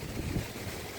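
Strong typhoon wind buffeting a coastal spot in Nasugbu, Batangas, a steady loud roar with gusty swells rushing across the microphone, no voices.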